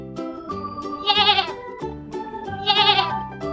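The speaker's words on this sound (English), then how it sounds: "Goats say" A goat bleats twice in a row, loud and close, each call a wavering, nasal cry with a short pause between them and no other sound around.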